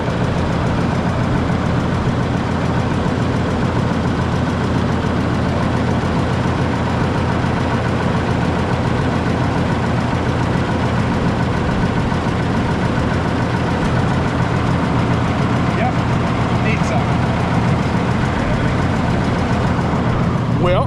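A Minneapolis-Moline G1050 propane tractor with a bubble nose idles steadily and close by, its low engine drone constant and loud for the whole stretch with no change in pace.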